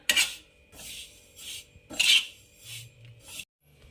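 Sesame seeds for sesame-jaggery laddoos are stirred in a pan, producing rhythmic scraping and rasping strokes with faint rattling of the seeds, several distinct sweeps close up and no voices.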